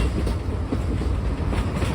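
The Frisco Silver Dollar Line #504 train rolls along its tracks with a close, continuous rumble and rhythmic rail clatter, loud and unbroken, with no voices.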